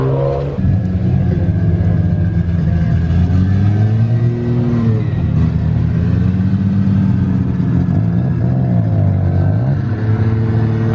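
Cars roll up to a car show with JDM, muscle and exotic cars, loud engines revving and droning close by, pitch rising and falling as vehicles pass continuously.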